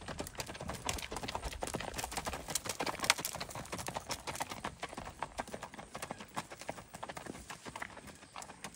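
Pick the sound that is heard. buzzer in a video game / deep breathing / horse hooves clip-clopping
horse hooves clip-clopping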